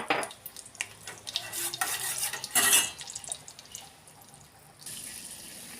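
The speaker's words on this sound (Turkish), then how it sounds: "Şimdi de tereyağımı aldım ocağıma." Butter is stirred as it melts in a pan on a stovetop for a chicken soup, with a soft sizzle and scraping spoon strokes in irregular bursts, then a steadier quiet frying hiss toward the end.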